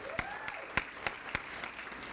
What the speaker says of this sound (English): I think you all need to give them a round of applause